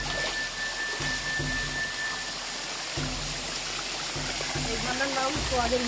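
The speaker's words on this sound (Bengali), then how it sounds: "অবশেষে চলে আসলাম ঝর্ণাতে।" Sohager Vita waterfall at Barabkund Banshdhara, a steady broadband rush of falling water filling the whole clip, with a few low thumps and faint voices in the background.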